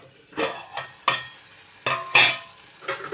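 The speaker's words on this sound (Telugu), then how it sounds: "టమాటాలు మగ్గుతున్నాయి, ఇంకా బాగా మగ్గాలి." Tomatoes stirred and simmering in a pan for a potato-tomato curry, with repeated scraping stirs and bursts of sizzling spaced across the moment, close and clear with no talking.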